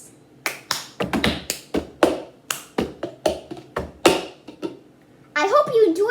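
The cup song rhythm is played with a cup, a quick, crisp run of taps, slaps and claps in a tight repeating pattern close by. A voice comes in briefly at the end.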